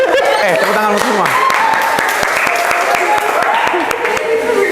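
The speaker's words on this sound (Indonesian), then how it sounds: "Tepuk tangan semua." A group in a classroom teaching session at Universitas Negeri Makassar claps together: dense, lively applause runs throughout, mixed with voices and a little laughter.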